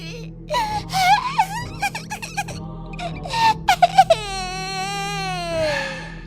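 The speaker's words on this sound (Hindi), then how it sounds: "तभी ममता को एक छोटे से बच्चे की रोने की आवाज आने लगती है।" A small child cries in an animated horror story, with a wavering wail broken by gasping sobs, then one long rising-and-falling howl. The crying is close and fairly loud, over a low hum.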